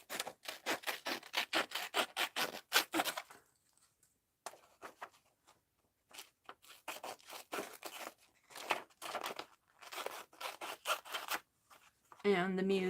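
Scissors snip through printed sheet music paper in quick bursts of crisp cutting and rustling, close up, with short pauses between runs and a voice speaking at the very end.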